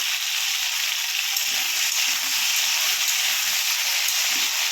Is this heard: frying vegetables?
yes